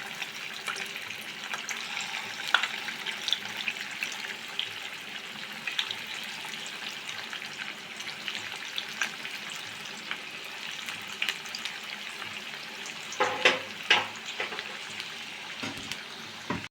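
Rice flour snacks fry in oil in a pan with an even, continuous sizzling hiss, and a brief cluster of louder pops and spatters comes near the end.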